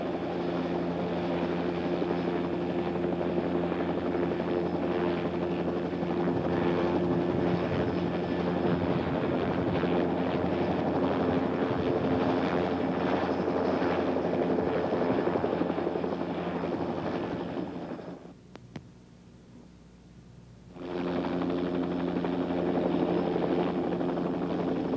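A Bell OH-58 helicopter's engine and rotor run steadily and loudly with a constant whine and broadband roar, dropping to a brief muffled lull near the end before returning at full strength.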